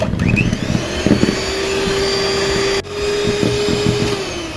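Electric mixer beating sponge cake batter for a chocolate cake: a steady, loud motor whine running throughout, with a brief dip partway through and a few faint knocks.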